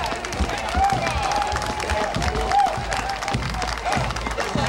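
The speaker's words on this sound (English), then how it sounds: "Let's give them a great big round of applause." A street crowd at a St. Patrick's Day parade claps continuously in a dense, rolling wash of applause, with scattered voices mixed in.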